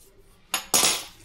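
A metal utensil stirs a bicarbonate and salt mixture in a bowl, giving two quick scraping clinks, close and clear, with no voices.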